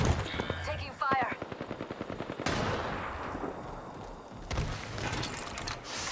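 Automatic gunfire from the Apex Legends video game, rapid bursts close and loud, with a sharp crack midway and a sweeping whoosh afterward; a voice talks briefly over the shooting.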